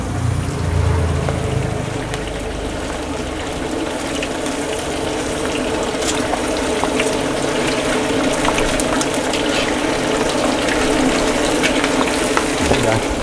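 Eel frying in hot oil at a village warung, a loud dense continuous sizzle and bubbling crackle close by, steady throughout with faint background voices.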